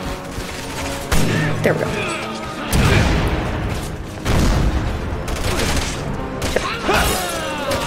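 Loud gunfire and explosive bangs from the co-op video game Resident Evil 6, in repeated bursts with crashing impacts, while a player talks briefly over the action.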